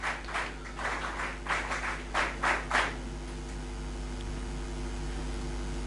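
Audience applause for student Himani Gaonkar during an honouring at a VPM Foundation Day ceremony: a few uneven bursts of clapping over the first three seconds, then fading into a low steady hum.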